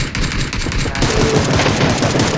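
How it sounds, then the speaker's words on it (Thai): Rapid automatic gunfire in the video game PUBG, a dense loud burst of shots running continuously through the short stretch with no pause. "ดูมันยิงนะ"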